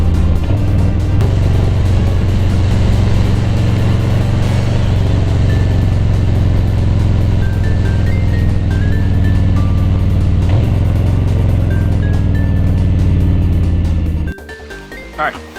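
Motorcycle engine idling after long storage on fresh oil, primary and transmission fluid and fresh gas, a loud steady low rumble for about fourteen seconds before it cuts off, with brief faint noises after.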